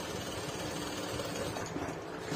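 A sewing machine stitching a front pocket on an English trouser, running in a steady, dense mechanical whir close by, unbroken throughout.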